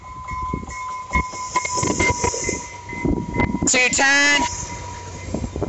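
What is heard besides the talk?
FrontRunner commuter train passing Clearfield station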